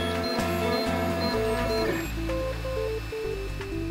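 A 3D printer runs with steady stepper-motor tones that step between pitches in a quick sequence, loud and close with a constant mechanical hum underneath and no talking.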